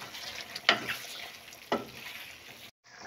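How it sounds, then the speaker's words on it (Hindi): Chicken karahi sizzles in hot oil as chopped green chillies with ginger and garlic paste go into the pan, giving a steady frying hiss with two louder stirring bursts and a brief drop near the end. "और अब हम इसमें डालेंगे तकरीबन 5-6 सब्ज़ मिर्चें बारीक कटी हुई और अच्छी तरह से इसे 2 मिनट के लिए भूनेंगे।"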